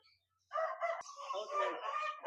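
An aseel rooster crows once nearby, a loud, harsh, drawn-out call lasting under two seconds after a short pause.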